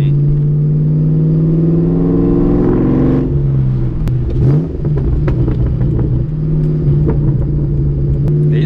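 A supercharged car engine revs through its exhaust, a steady deep drone that rises in pitch, drops back, then holds a throaty rumble.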